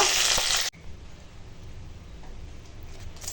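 Fish, small rohu, frying gently in a pan of oil: a loud, close sizzle for the first moment, then it drops abruptly to a quiet, low background hiss.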